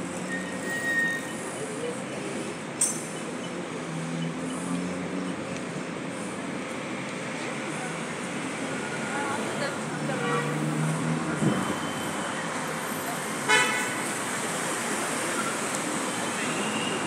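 A metro train running underground roars steadily and loudly, with wheel squeal and rattling carriages, while voices talk faintly beneath the rumble.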